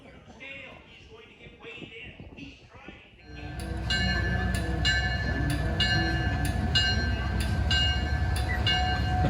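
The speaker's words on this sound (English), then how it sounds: "And now for the excursion on the White Mountain Central Railroad." White Mountain Central Railroad excursion train rumbling steadily with clanking cars and sharp metallic clicks, starting up loudly after a stretch of people talking nearby.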